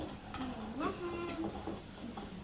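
Faint clinking of a utensil against a bowl while mixing a sauce in a home kitchen, soft scraping under a child's and adult's voices.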